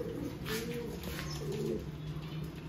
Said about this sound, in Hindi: तब तक मैं आपको कबूतर दिखाता हूँ